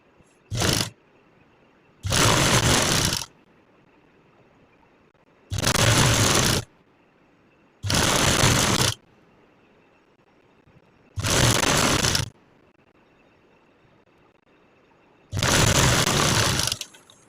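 A sewing machine stitches a fine fold into baby girl frock fabric, running in six separate bursts of about one second each with short quiet pauses between them. It sounds close and loud, a steady whirring buzz during each run.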